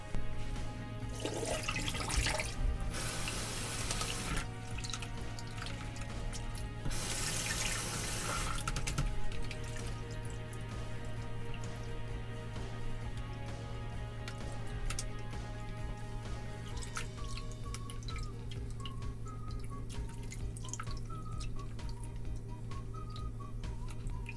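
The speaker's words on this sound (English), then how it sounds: "I prefer to just use really hot water from the tap." Hot water runs from a household tap into a sink, a steady rushing stream with louder bursts early on, then settling to a quieter flow with faint ticking and clinks.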